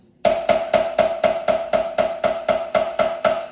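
A drum struck with Promark 5A forward-weighted drumsticks in a steady run of about thirteen evenly spaced hits, each with a punchy, full attack with a little more low end and short ring, played alone and close.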